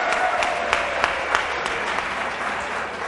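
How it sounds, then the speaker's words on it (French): A crowd applauds a contestant at a talent tour final, dense clapping from many hands sustained throughout with a few sharper claps standing out. "Applaudissements pour Inoussa."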